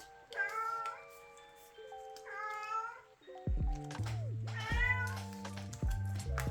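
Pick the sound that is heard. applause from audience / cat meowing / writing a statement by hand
cat meowing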